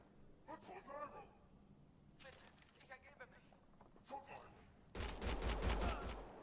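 Bursts of gunfire in Mass Effect: Andromeda break out loudly near the end after quieter stretches where people speak, forming a dense volley of rapid shots.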